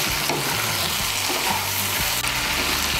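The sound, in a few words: okra and potato curry stirred while frying in a pan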